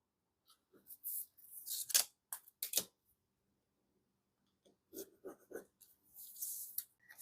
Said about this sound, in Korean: 허리밴드의 윗선을 다시 한번 그려줍니다